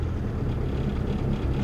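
A 1987 Nissan Be-1 engine struggles to idle, a steady low rumbling drone with rough, uneven pulsing, close and fairly loud with no talking.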